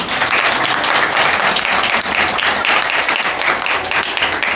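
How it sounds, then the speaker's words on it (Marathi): Loud, dense applause from a large crowd at a Buddha statue installation ceremony at Panchsheel Buddha Vihara, Ambegaon Pathar, a steady wash of clapping filling the whole stretch without letup. "आणि महिलांच्यासाठी सगळ्यांनी एकदम मोठ्या टाळ्या वाजवल्या"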